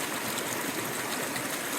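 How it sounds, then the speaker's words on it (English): Fresh spring water streams out of a mountainside on the Appalachian Trail, a steady, close, broadband rushing and splashing that holds even and unbroken throughout. "This is just fresh water coming out of the mountain"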